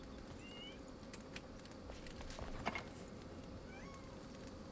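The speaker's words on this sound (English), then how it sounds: "meowing like you're distressed" A house cat meows in apparent distress, a few short high calls near the start and again near the end over a constant low hum of game music, with faint clicks in between.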